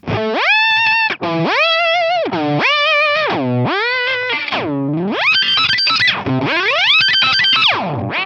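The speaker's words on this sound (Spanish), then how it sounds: "Y este whammy suena tal que así." Distorted electric guitar notes bend sharply up and down in pitch through a whammy effect on a Line 6 HX One pedal, a heavy pitch-shift sweeping each phrase, loud and continuous with brief gaps.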